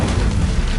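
Incendio fire spell going off in Hogwarts Legacy, a short heavy booming burst of fire, loud and low, lasting under a second.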